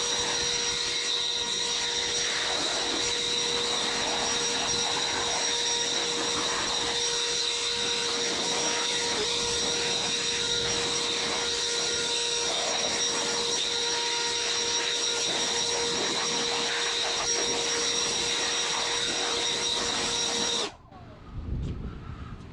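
Kobalt battery-powered leaf blower, 80v 800 cfm or 24v 540 cfm, running at full power used to dry grass and a car: a loud continuous high-pitched whine that cuts off abruptly near the end.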